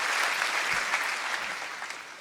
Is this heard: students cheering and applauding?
yes